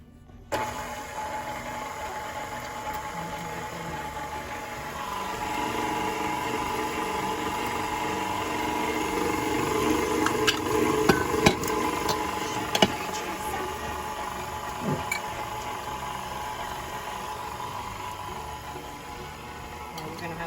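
An electric mixer runs on its lowest speed, mixing molasses cookie dough. It makes a steady motor whir that builds after a few seconds and then holds, with faint voices in the background.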